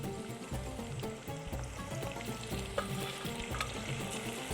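Chicken pieces deep frying in a pot of hot oil for Korean spicy fried chicken, a dense continuous bubbling sizzle held at an even level throughout, close and without speech.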